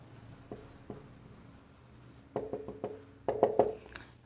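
Chalk or marker tapping and scratching on a classroom board as a teacher writes vowels and consonants, short strokes in uneven bursts, growing louder and closer toward the end, with no talking.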